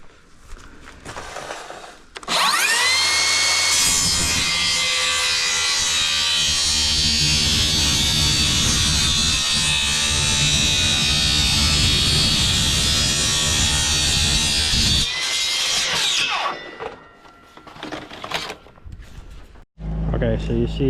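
A power saw cuts through house siding from the back side, a loud, harsh whining buzz that runs steadily for about thirteen seconds before winding down, with quieter handling clatter before and after.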